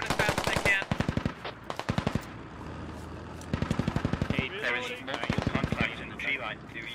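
Bursts of machine gun suppressing fire in the SquadOps video game, several rapid rattling volleys with short gaps, loud and close, alongside other battle noise and spoken voices.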